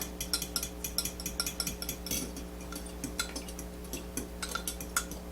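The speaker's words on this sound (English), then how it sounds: "and then whisk it together." Egg and milk being whisked together in a bowl for a homemade pot pie, a steady run of quick metallic clinks and taps from the whisk against the bowl, close and fairly quiet, with no talking.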